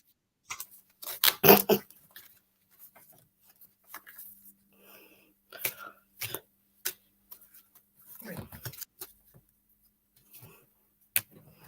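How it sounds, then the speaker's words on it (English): A deck of oracle cards shuffled during a live card reading: a few brisk, papery riffling bursts and scattered soft card taps, separated by quiet gaps. "Sorry, I'm trying to help Sue while I'm shuffling."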